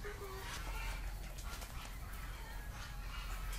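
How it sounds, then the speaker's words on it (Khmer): Chickens cluck and murmur continuously inside a large poultry shed housing about two hundred hens and their grown chicks, a faint, dense flock din with one brief clearer call near the start. "នេះគឺកូនមាន់របស់គាត់ធំធំល្អ"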